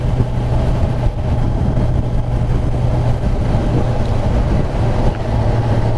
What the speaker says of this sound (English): Can you hear it? The intake air, my goodness, that's a music